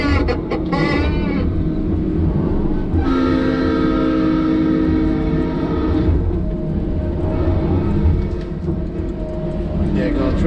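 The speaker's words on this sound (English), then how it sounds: "Truck driver passing by out there." A large truck rolls past outside on a road, a loud, sustained rumbling roar with a tonal, horn-like whine that swells midway and then fades, heard close and continuous.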